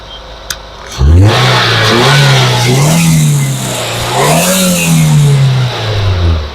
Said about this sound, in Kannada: ಸೌಂಡ್ ಕೇಳ್ಕೊಂಡ್ರ ಹೆಂಗಿದೆ ಅಂತ, ತುಂಬ ಸ್ಮೂತ್ ಆಗಿದೆ. ಪೆಟ್ರೋಲ್ ಇಂಜಿನು, ರೆನಾಲ್ಡ್ ಸ್ಕಾಲಾ 2014 ಮಾಡಲ್